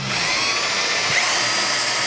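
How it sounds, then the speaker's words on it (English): A power drill whines steadily and loudly throughout, boring rivet holes at close range on a sailboat with a constant high-pitched buzz. "we're going to drill where I have marked the rivet holes"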